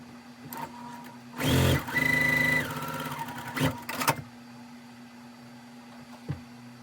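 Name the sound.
sewing machine sewing quilt block squares along a line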